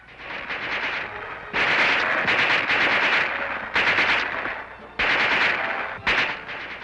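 A submachine gun fires several sustained automatic bursts in rapid succession, loud and close, each stream of shots separated by short gaps, with no talk over it.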